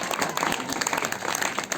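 A short round of audience applause at a Shivjayanti spiritual gathering, dense clapping spreading across the hall for a couple of seconds, moderately loud with a faint voice mixed in.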